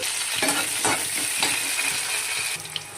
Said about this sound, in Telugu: కొంచెం ఆయిల్ వేసుకొని కొంచెం జీరా వేసుకోండి, కొన్ని ఆవాలు వేసుకోండి